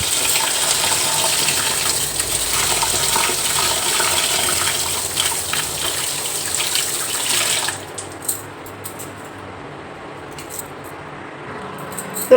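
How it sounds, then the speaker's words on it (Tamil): Pearl millet grains for porridge are washed in water in a vessel: a long, loud wash of running, sloshing water, then quieter swishes and drips. "நல்லா ஒரு கழுவு கழுவிடுவோம்"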